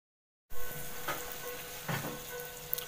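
Luchi fries in hot oil in a kadai, giving a steady soft sizzle with a couple of brief bubbling bursts, close but fairly quiet, after a short silence at the start.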